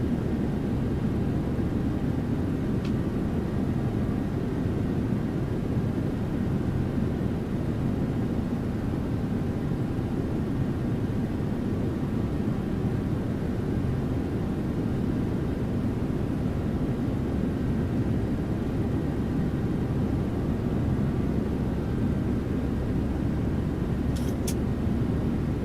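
Steady broadband cockpit roar of a Boeing 737-800 in the X-Plane 12 flight simulator, a constant dense rumble and airflow hiss held at even loudness throughout with no talk.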